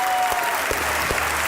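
Loud studio audience applause on a Pakistani comedy talk show, dense continuous clapping with a few sharper claps standing out and no speech over it.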